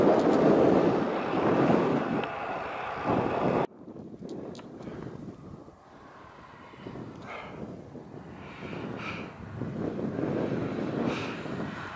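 Strong wind gusts across the open top of the Preseli hills, buffeting the microphone in a loud roar that drops suddenly and then builds again into steady rushing. No one speaks.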